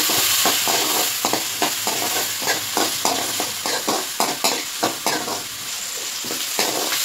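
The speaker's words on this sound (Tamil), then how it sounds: "நல்லா வெங்காயம் வதக்கிட்டு இப்போ" Onions and curry leaves saute in a hot pan for a ridge gourd kootu, a close, steady sizzle broken by regular scraping stir strokes, with no talking.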